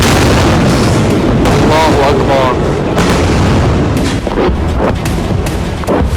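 Serial blasts and explosions in northern Israel come as dense, overlapping booms and rumbling bursts, loud and continuous throughout.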